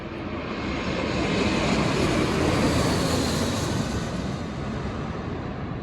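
Jet airplane engine roar at San Diego International Airport, a broad continuous rumble swelling slightly and then easing, heard from a parking garage rooftop with no voices.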